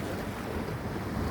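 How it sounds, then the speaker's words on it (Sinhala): Sea waves breaking at a beach, a steady broadband roar of surf mixed with wind, moderately faint and continuous over the short stretch with no voices. "ඕලන්ට පේනවා රැලි ගහනවා"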